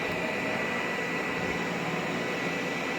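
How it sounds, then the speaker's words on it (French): A Xiaomi robot vacuum v2 runs in suction mode, a steady, close, broadband whirring hiss that holds an even level throughout with no talk. "On entend qu'il a activé en fait le mode aspiration"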